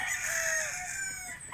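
A talisayin rooster crows a single long, loud cock-a-doodle-doo nearby, the call stretching out and fading at the end.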